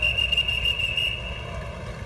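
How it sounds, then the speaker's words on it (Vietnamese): Police blow a whistle to move migrant workers off a set of outdoor steps. It gives one steady, shrill blast lasting about a second over a constant background roar. "còn có cảnh sát thổi còi xua đuổi yêu cầu họ giải tán."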